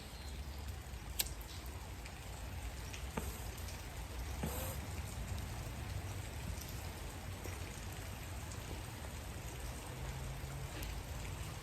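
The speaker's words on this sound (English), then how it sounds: "It's raining harder and harder and harder and harder and harder." Heavy rain pours steadily outdoors, a dense continuous hiss of drops hitting surfaces with occasional sharper taps and splashes, fairly quiet overall and without speech.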